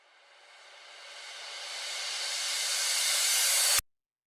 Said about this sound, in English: you have your crash that acts out like as a charging loop